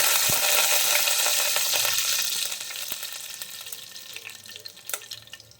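Curry leaves hit hot oil with popping mustard seeds for a Kerala-style beef ularthiyathu, giving a loud, steady sizzling hiss that slowly eases, dotted with sharp crackles and pops, with no voices.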